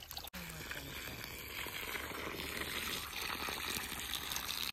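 Water swishes and gushes steadily while a cooking pot is rinsed out outdoors on a farm before a chicken party, a continuous close sloshing wash with no clear talk.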